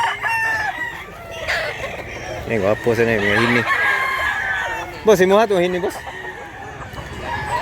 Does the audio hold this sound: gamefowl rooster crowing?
yes